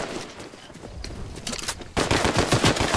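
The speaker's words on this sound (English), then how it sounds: "Oh, gunfire!" Rapid bursts of Fortnite gunfire crackle in the background, then a loud, dense volley of shots erupts close by and continues steadily.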